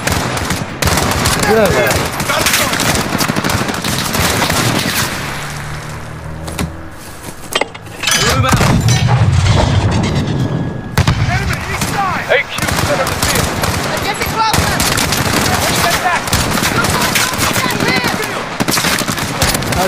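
Dense, loud automatic gunfire and explosions fill a Call of Duty: Modern Warfare campaign firefight, with bursts rattling almost continuously while players talk over the shooting.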